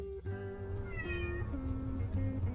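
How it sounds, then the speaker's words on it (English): Cartoonish cat meows in the video game Cat President 2, a quick series of tonal mews in a playful rising-and-falling pattern over a soft rhythmic music bed, clear and close. "A fancy-looking cat entered my car."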